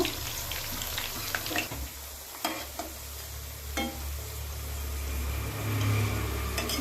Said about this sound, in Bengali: একদম লাল লাল করে আমি ভেজে নেব